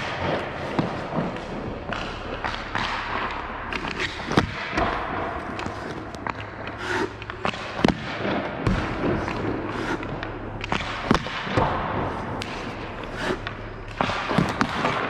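Ice hockey pucks shot flat along the ice at a goalie's short side during a goaltending drill, giving a long series of sharp cracks and thuds at irregular intervals over steady rink ambience.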